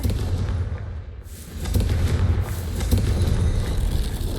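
Confringo blast spell in Hogwarts Legacy, heavy booming explosions and crackling bursts rolling through a dark corridor, with a brief lull before renewed rumbling impacts.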